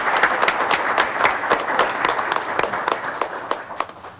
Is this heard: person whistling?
no